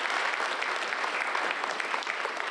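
Audience at a live comedy show in Vail, Arizona gives a steady round of applause, with dense clapping that stays even throughout.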